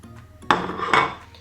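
Two clattering scrapes of a utensil against a bowl while quiche Lorraine filling is stirred together with grated cheese, close and fairly loud over a faint background hum.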